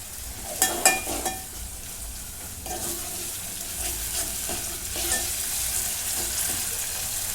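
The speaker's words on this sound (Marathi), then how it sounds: "आता दोन मिनटं परतून घेते" Curry leaves sautéing in a hot pan, a few sharp crackles and pops at first, then a steady close sizzle with occasional stirring scrapes, no talk.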